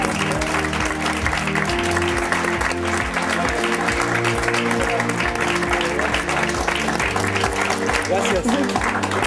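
A studio audience at a TV talk show applauds a guest actor, the clapping mixed with loud rhythmic music that plays throughout.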